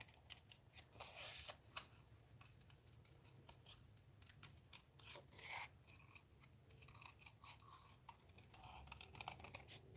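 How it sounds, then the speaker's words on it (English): Quiet snipping of scissors fussy cutting paper in short, irregular clusters, close up with no talking. "Let me hold my scissors correctly."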